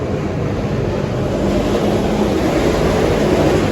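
Four Stihl 500i chainsaws fitted with bark box mufflers run together at high revs, a loud, steady, dense engine roar that stays constant throughout with no talk.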